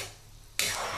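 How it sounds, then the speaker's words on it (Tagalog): Marinated menudo hits a hot pan with a sudden loud sizzle about halfway through, the frying hiss then holding steady and close after a quieter stretch of low cooking noise. "Ayan na, igigisa na, gisa na dito."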